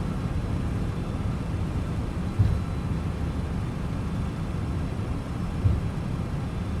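MD-11 engines roaring at full reverse thrust in a flight simulator on landing rollout, a steady loud broadband rumble with two brief thumps.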